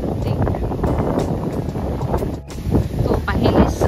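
Wind blows hard across the Geelong waterfront, buffeting the microphone in loud, continuous rumbling gusts with a brief lull midway.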